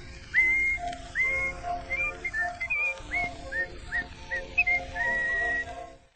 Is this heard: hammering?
no